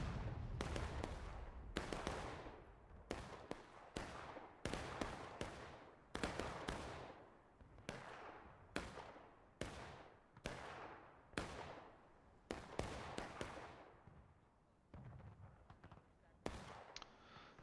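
Artillery cannon fire in a Civil War video game: a long run of heavy booms, a dozen or more, each with a sharp crack and a rumbling decay. They come close and loud at uneven intervals, with occasional faint voices underneath.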